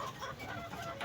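Soft, close clucking from a gold-coloured hen among bred chickens, a few murmured calls over steady background noise.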